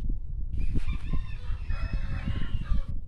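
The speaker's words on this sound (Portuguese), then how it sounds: "E as galinhas continuam ali dando show." Chickens clucking steadily with a rooster crowing in the middle, close and fairly loud in a garden with plants, no talking.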